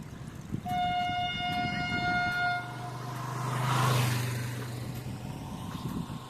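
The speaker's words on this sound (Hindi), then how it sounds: "ये ट्रेन की आवाज़, हमारी बाजू में स्टेशन है" A train horn sounds near a railway station, a long sustained honk followed by a lower rumbling pass of rail cars, with outdoor ambience around it.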